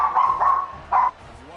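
A dog barks in the background during a college football broadcast of Tennessee at Texas A&M, three sharp, fairly loud barks in quick succession with voices present.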